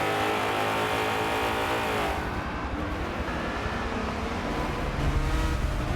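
Porsche race car engine in a racing video game, a loud continuous drone that shifts pitch as the car accelerates and changes gear, running alone throughout at close range.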